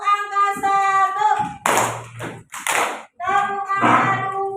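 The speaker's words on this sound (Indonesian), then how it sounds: "tepuk angka 1," A class of students in an Indonesian-language lesson chant together, then break into a few sharp bursts of group clapping in a counted rhythm, close and loud between the voices.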